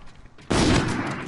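An RK5 rifle fires in the shooter game Infinite Warfare, an abrupt loud burst of gunfire that starts after a quiet half second and rolls on as a dense, sustained roar to the end.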